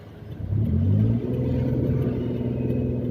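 A car's engine rumbles and rises in a brief rev as it pulls forward uphill with the clutch half engaged, a steady close mid-pitched drone that holds on after the initial push.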